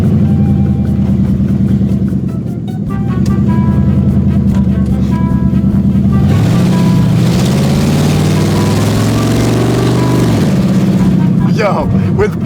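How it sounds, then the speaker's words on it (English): Cheap drift car with an open differential doing burnouts on bald tires in Mexico, its engine roaring and revving loudly and steadily throughout, with people talking over it. "it's just ripping burnouts, bro"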